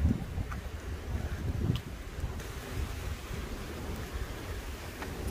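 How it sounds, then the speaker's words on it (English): Steady outdoor wind in Kuwait City rushing and buffeting the microphone, a continuous low rumble with occasional gusts and no talking. "It's windy here, guys."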